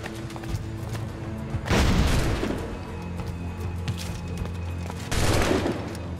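Gunfire in Assassin's Creed IV, rapid volleys of musket and cannon shots with two loud, close bursts of booming fire standing out above a steady din of battle.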